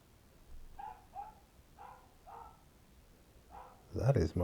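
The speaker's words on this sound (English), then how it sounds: "That is my dog barking." Rufus the dog barks in a garden some distance away, a series of faint, evenly spaced barks, followed by a louder, closer burst of sound at the end.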